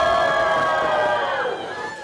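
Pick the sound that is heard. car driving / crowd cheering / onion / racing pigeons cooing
crowd cheering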